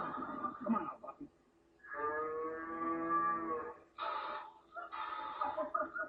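A cow moos at milking time, one long sustained bellow in the middle framed by shorter lowing calls and busy barnyard noise, with voices nearby.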